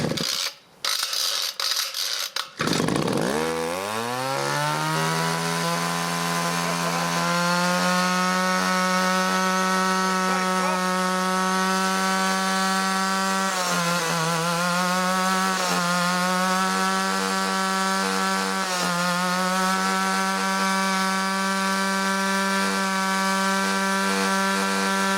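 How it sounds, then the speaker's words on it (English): A Stihl FS 51 string trimmer engine, recently repaired and temperamental, catches after a few sputters and then runs steadily at a loud, buzzing idle with slight rises and dips in pitch. "It is running. It's better."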